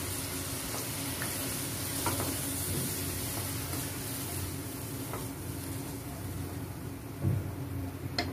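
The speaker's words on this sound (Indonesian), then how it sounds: "jadi ditumis dulu sampai kadar airnya berkurang dulu" Blended spice paste for young papaya lodeh stir-frying in a pan, a steady close sizzle running throughout with occasional scrapes and clinks of stirring, no talk.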